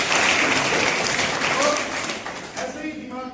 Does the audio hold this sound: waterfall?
no